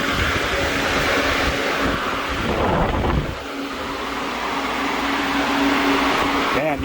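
An EcoBlue electric fan motor runs hard, moving a strong rush of air in a loud, steady roar that briefly changes near the middle; a voice speaks over it.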